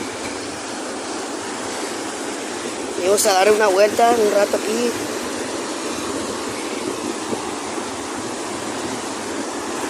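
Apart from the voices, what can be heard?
ocean waves at a beach in Mazatlán, Sinaloa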